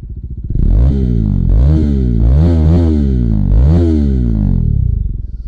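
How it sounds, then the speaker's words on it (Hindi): Exhaust of a Bajaj Dominar 400 BS6 motorcycle, close and loud, rising and falling through several throttle blips over an idle before settling back down. "एग्जॉस्ट साउंड तो ऐसा कुछ साउंड है इसका"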